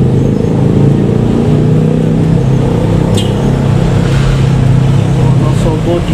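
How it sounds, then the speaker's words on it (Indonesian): Minibus driving on a narrow mountain road toward Dieng near Wonosobo, its engine a steady loud drone with broad road noise throughout, passing close by. "Nah itu ada bus mikro."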